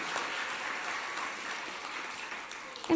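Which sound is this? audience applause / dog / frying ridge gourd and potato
audience applause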